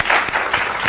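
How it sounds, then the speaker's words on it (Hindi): Studio audience at a Pakistani morning talk show breaks into brief, close clapping in quick uneven bursts. "ताली होनी चाहिए दिल्ली।"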